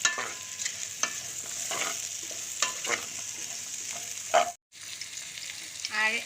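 Chicken with capsicum and carrots sizzles steadily in a pan while a spatula scrapes and clicks against it in an irregular rhythm, fairly close, with a brief dropout near the end.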